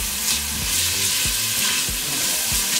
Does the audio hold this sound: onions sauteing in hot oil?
yes